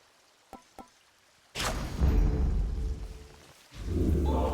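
Water pours into an old fountain chamber in Hades II, a steady, full rushing flow that starts abruptly after two faint clicks, dips briefly, then swells back loud and close.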